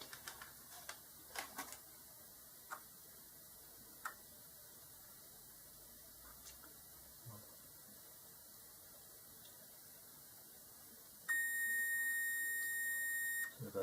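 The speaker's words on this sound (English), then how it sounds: "Put the multimeter into diode mode." A bench multimeter in diode test mode gives one steady continuous beep near the end, preceded by faint scattered clicks and taps while testing a faulty Siemens OP77A operator panel.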